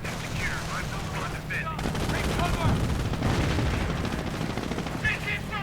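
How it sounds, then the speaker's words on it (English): Artillery and heavy anti-tank gun fire rattle through a World War II strategy video game battle, with dense overlapping shots and bursts of machine-gun fire under a voice. "Sturmgeschütz charging in by getting hit by heavy anti-tank gun fire."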